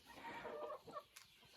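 A white silkie broody hen at a dacha coop gives a few soft, low clucks, close but quiet, in a short calm stretch.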